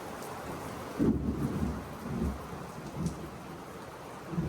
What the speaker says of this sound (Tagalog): Ito, umulan.